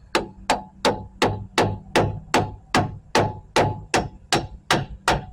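A hammer strikes the strut on a Jeep Compass front end to seat the splines, about fourteen sharp, evenly spaced metallic taps in a steady rhythm, close and clear with no talking.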